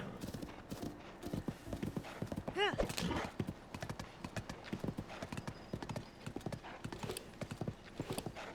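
Horse hooves clip-clop steadily in a video game, a rhythmic run of sharp, fairly close hoofbeats with a brief whinny partway through, while someone talks over them.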